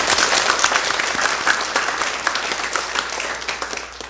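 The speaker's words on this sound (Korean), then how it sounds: "우리 모두 감사하다 하고 하나님께 영광의 박수 한번 올려드리겠습니다" A church congregation applauds in a worship service, a dense and sustained burst of many hands clapping that fills the room with no voices over it.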